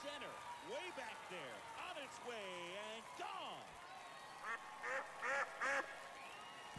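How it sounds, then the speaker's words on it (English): Several nasal, duck-like quacks sound over a faint background during a livestream, followed by a few sharp thumps or slaps near the end. "Why the fuck did I just hear a duck?"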